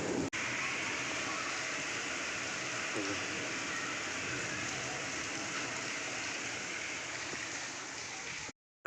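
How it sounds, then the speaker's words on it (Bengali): Constant rain from the season's first nor'wester (Kalbaishakhi) spring thunderstorm pattering and hissing at moderate distance, a steady wash of sound broken only by a short gap at the end. "এই প্রথম বৃষ্টি স্বস্তির বৃষ্টি"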